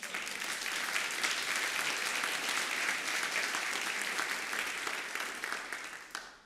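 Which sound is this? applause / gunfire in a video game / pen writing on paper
applause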